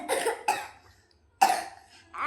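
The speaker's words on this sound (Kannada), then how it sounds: "ಕೆಮ್ಮು" Several sharp coughs come in bursts, two close together and another after a short pause, with a voice starting at the end.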